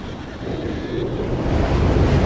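Antarctic blizzard wind at minus 50 degrees roars in a penguin documentary excerpt, a dense, loud, continuous rush that builds slightly with no voices.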